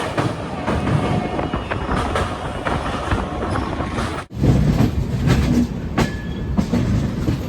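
The 13051 Netaji Express from Howrah to Kalka roars along at speed, a loud, continuous rumble with rhythmic clatter of wheels over rail joints and a brief sudden dip partway through, heard from on board.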